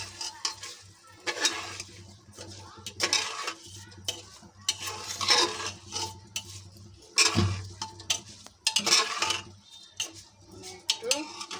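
Rice and chicken being stirred in a pressure cooker, with repeated scraping strokes of a spoon against the metal pot and faint sizzling between them, irregular and close.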